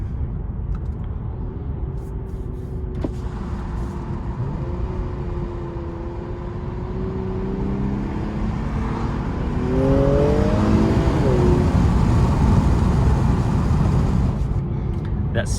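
A 2020 Infiniti Q60 Red Sport 400 engine accelerates hard in sport mode, a loud in-cabin rising drone that climbs in pitch through a gear pull, swelling louder toward the end over steady road roar.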